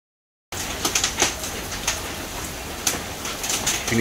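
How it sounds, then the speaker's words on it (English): Hail falls during a severe storm in Moore, Oklahoma, a dense rattling patter of stones striking surfaces with scattered sharper impacts after a brief silent start. "All right, now we're getting some hail."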